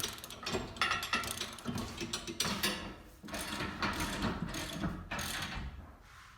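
Linkage arm bolts on a PRx profile rack being snugged with a ratchet wrench, rapid clicking pawl bursts in short repeated runs with metallic clanks, close up and without talk.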